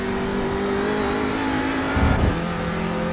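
Audi RS3 LMS TCR race car engine at Brands Hatch, a steady onboard drone that blips briefly louder as it downshifts to fourth, with a short low rumble over the curb, no talk.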